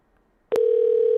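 A phone line with a fault produces a steady, loud dial tone that starts abruptly after a short silence, preceded by a brief click, and holds unbroken to the end.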